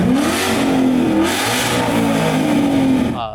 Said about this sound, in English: Car sounds absolutely incredible with the new Stainless Works long tube headers.